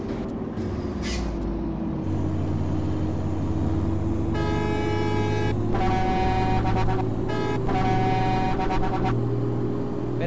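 A bus's loud horn in American Truck Simulator, several sharp tonal blasts in bursts over a steady low engine rumble, with a brief hiss near the start.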